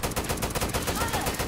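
Rapid automatic gunfire from the video game Left 4 Dead 2 rattles in a fast, even burst of shots, loud and close, with no clear talk over it.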